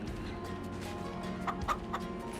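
Chickens in Farming Simulator 25 cluck softly in a few short bursts inside a coop, over a steady low background hum.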